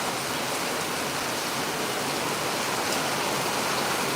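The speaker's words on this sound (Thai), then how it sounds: "บรรยากาศครับฝนตกนะครับ" Rain falls steadily on a garden in Pluak Daeng, Rayong, Thailand, making an even, dense hiss that stays constant throughout with no voices.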